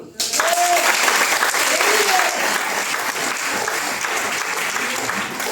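An audience claps together at a harvest festival in a Methodist church in Allékédon, the applause starting abruptly and continuing steadily, loud and close, with voices mixed in.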